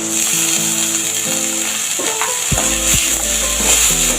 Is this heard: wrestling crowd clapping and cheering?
no